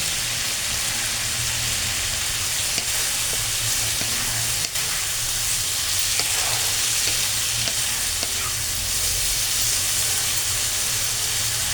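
Food fries and is stirred in mustard oil over a full flame, giving a steady loud sizzle and hiss throughout with occasional scraping stirs and no talking.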